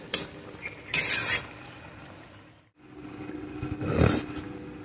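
Prawn-stuffed pointed gourd dolma being stirred and fried dry in a pan, with bursts of scraping and sizzling, a brief pause, then steady frying that swells near the end.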